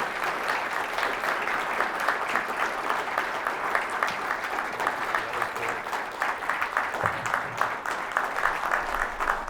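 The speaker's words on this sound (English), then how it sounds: "Keep the applause going." Lecture hall audience applauding after an astrophysics talk on gravitational waves and cosmic element formation, dense continuous clapping at an even level throughout, with no speech over it.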